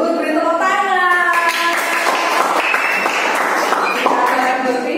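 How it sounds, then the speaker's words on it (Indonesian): Students in a junior high school classroom burst into applause, a dense, continuous clapping close by, mixed with children's voices calling out throughout. "Bagus, beri tepuk tangan."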